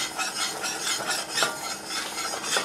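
Flour cooks and browns in a pan for white gravy after frying chicken cutlets, giving a steady close scraping stir over a faint sizzle, with no talking.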